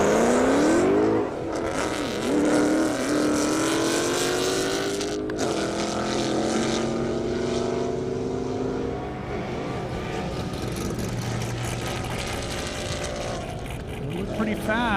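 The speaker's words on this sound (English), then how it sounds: "Now I got Mark and another Mustang, 950 horse right there, beautiful car." A 950-horsepower Ford Mustang drag racing at an airport strip, its loud engine roaring and rising in pitch as it accelerates away, with crowd noise and talk underneath throughout.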